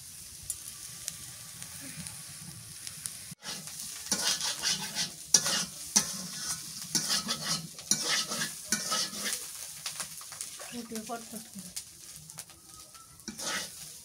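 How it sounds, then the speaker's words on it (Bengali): Shrimp and small potato bhaji sizzling and bubbling in a frying pan, a steady crackling fry with irregular stirring and scraping knocks of a utensil against the pan, close and continuous. "ভাজিটা হয়ে গেছে, নামাইনি, পটপট করে ফুটতেছে।"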